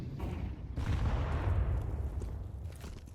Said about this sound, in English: Nade lands on his toes.